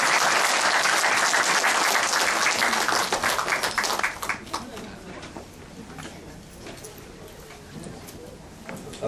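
Applause from an indoor audience at a book concert in Gwangju, loud dense clapping at first that thins out and fades to scattered claps.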